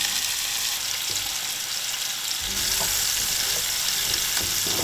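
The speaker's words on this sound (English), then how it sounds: "I'm going to add our white onion and green onion" Chopped white and green onions frying over medium heat for wild pork fried rice, a steady broadband sizzle that swells louder about halfway through as they hit the pan, with a few faint stirring scrapes and no talking.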